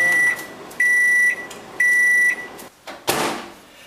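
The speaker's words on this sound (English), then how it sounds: "Microwaving your food." A microwave oven heating food gives three loud, evenly spaced beeps over its hum, then a door clunks open near the end; close and alone.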